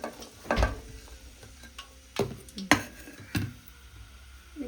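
Sliced onions going into hot oil on a gas stove, with four sharp clattering stirs and scrapes in a pan over a steady low sizzle, no talking.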